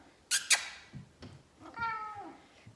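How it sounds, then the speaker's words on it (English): A pet cat meows for attention, with two sharp knocks first, then softer sounds and a long drawn-out meow near the end, heard close with no one talking. "And right now I have my cat who wants some attention."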